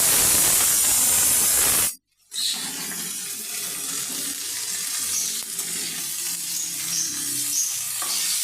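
Steady, close sizzling of bitter gourd and red lentils frying in a hot pan, a continuous hiss broken by a brief silent cut near the start.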